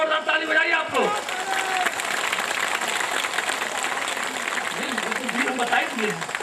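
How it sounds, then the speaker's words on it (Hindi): Crowd applause at a Suheldev Bharatiya Samaj Party political rally in Bahraich, Uttar Pradesh, a steady wash of clapping lasting several seconds while someone speaks over it through a loudspeaker. "जोरदार ताली बजाइए आप लोग।"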